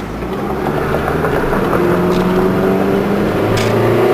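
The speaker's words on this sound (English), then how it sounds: "make a left turn right here and punch it and see what happens" Pontiac Sunfire 2.2 accelerating hard through a left turn, engine note rising steadily and staying loud and close the whole time, with no talk.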